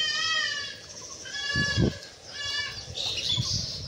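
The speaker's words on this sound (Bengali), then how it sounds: "কি হল রে ছাগলটা রে?" A goat gives several close, wavering bleats, one at the start, another around the middle and a higher cry near the end, over soft rural background noise.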